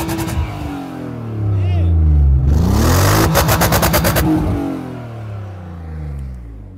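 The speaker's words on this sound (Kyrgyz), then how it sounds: "Мотор жакшы окшойт, э?" A used car's 2.5 or 3.0 litre boxer engine, at a cheap-car market, idles and then revs up loudly in a rising, pulsing burst before settling back down, close by, with voices talking around it.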